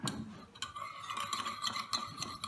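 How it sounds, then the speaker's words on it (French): Rapeseed oil is whisked into a homemade vinaigrette, a quick, steady clinking and scraping of a utensil against a bowl, close and fairly quiet, with no talk. "Vas-y, mets dedans et mélange bien"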